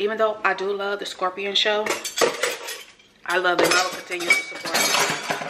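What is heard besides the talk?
dishes clattering in the sink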